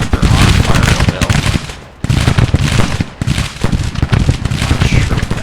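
Rapid rifle volleys from Civil War troops in Grand Tactician: The Civil War, sped up to four times speed, crackle in dense, continuous bursts with brief pauses, loud and close.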